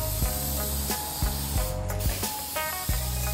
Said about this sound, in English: Now all we gotta do is take some poly and spray it.